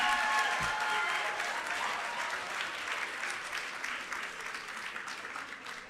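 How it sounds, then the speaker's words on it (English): Conference delegates applaud a speaker named Gifty, a full crowd clapping that starts strong and slowly thins toward the end, with a faint voice briefly audible near the beginning. "a round of applause once again for Gifty"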